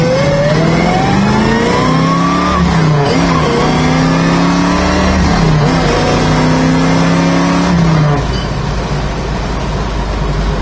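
A 350 V8 engine in a 1968 Chevrolet Camaro revs loudly and repeatedly, pitch climbing and falling in strong sweeps, close by with no talk.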